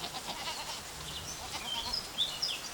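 Goats on a goat farm bleat in short, fairly faint cries over a soft barn murmur, several calls scattered toward the end amid low background bustle.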